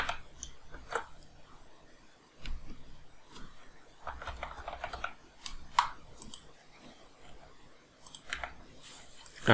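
Quiet keyboard typing and mouse clicks on a computer while a password is being changed, in irregular bursts of light taps with short pauses between them.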